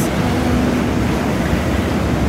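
Steady, broadband rush of open water waves, continuous and fairly loud with no distinct breaks, heard alone without voices.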